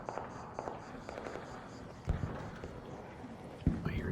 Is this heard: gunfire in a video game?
yes